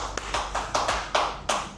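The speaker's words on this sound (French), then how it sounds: "On peut vous applaudir?" A small group at a hypnosis therapy session in a café claps slowly and evenly, about six distinct claps close by with brief gaps between them.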